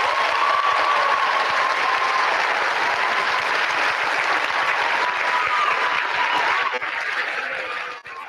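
Sustained, loud audience applause fills a hall at an evening event honoring Dr. Jane Goodall, a dense steady roar of clapping that tapers off slightly near the end.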